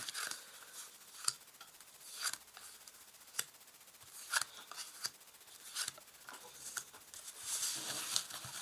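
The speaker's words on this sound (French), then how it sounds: "Alors je vais tirer 4 cartes" Tarot cards are drawn and laid down one by one at a reading, with sharp, quiet card snaps and slides spaced irregularly and closer handling rustle near the end, heard alone at close range.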